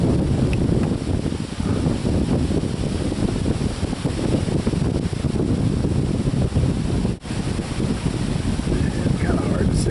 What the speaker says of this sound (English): But that wind's kicking it right now.